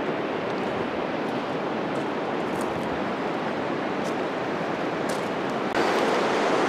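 A river flowing close by in Oregon, a steady, loud broadband rush of water that holds constant without breaks, with no voices over it.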